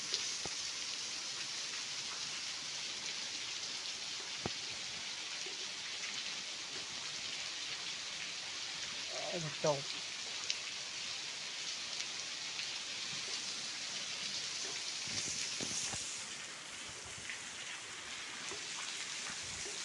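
Heavy rain pours steadily at a Shiva temple as a dense, even hiss throughout, with a few faint knocks and a short spoken remark partway through.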